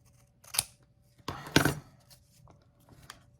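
Scissors snipping through folded paper strips to make faux tickets, two quick close crisp cuts about a second apart, then softer faint rustling, in a quiet room without talk.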